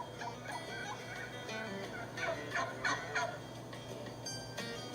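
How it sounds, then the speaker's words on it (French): A wild turkey hen gives a series of short, high-pitched yelps, repeated in a quick run at moderate distance over a steady outdoor background with no voices. "Les dindes utilisent le glapissement, un yelp, yelp, yelp aigu pour une panoplie de situations"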